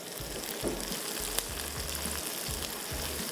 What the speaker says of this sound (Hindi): ये वाली लाल मिर्चें, कड़ी पत्ता और हरी मिर्चें, इन तमाम चीज़ों को आपने भूनना है